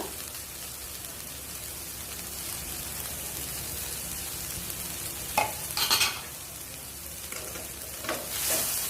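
Finely chopped cabbage and onion sizzle and fry steadily in a pan, with a few louder scraping stirs partway through.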